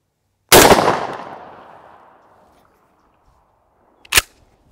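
A shotgun fires a Federal buffered 00 buckshot round: one loud, sharp outdoor blast with a long fading echo, then a second, shorter crack a few seconds later in otherwise near silence.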